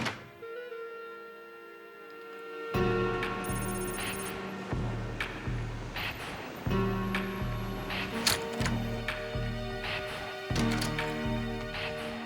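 A telephone rings in a tense drama scene, a repeated electronic ring in regular bursts over a rhythmic ticking and mechanical pulse, steady and fairly loud with no talking.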